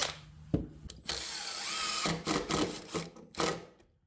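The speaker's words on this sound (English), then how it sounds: "Go ahead and countersink 2 screw holes." A power drill countersinking two screw holes in a wooden bench part, with short whirring bursts of varying pitch that come and go, close and fairly loud, with no talking.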